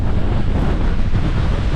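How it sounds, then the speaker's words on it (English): Loud, constant wind buffeting a microphone, a deep rumbling roar with no breaks and no voices. "Wow, it's windy, hope you can hear this."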